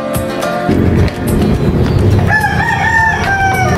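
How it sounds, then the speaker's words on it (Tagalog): Several native chickens cluck close by while a rooster crows loudly partway through, set against steady outdoor background noise. "Daming manok guys, native."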